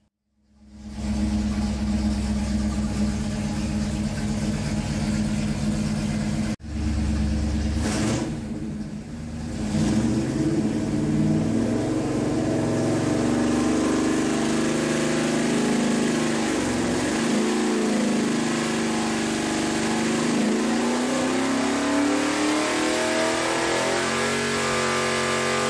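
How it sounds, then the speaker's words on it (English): A stock 301 V8 on an engine dyno with a Holley carburetor on a 2-inch spacer runs loud and close, a steady roar that climbs in pitch through one long pull with no talk. "Decided just to make runs with the Holley carb and the 2-inch spacer since that gave us the best results and the most horsepower on the stock setup"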